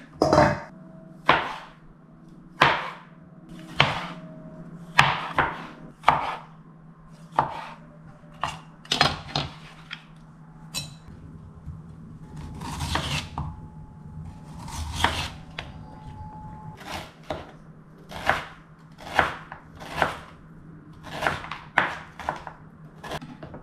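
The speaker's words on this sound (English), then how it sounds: "Some cherry tomato I have. Let me cut it into half." Repeated sharp knife strokes on a cutting board as cherry tomatoes are cut in half, about two dozen crisp chops at an irregular steady pace, close and clear.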